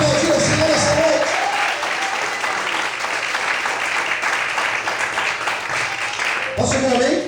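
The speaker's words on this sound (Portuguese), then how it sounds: "Você pode aplaudir o Senhor nessa noite" A church congregation applauds during an evening worship service, sustained crowd clapping that swells after a preacher's voice and carries on steadily before speech returns at the end.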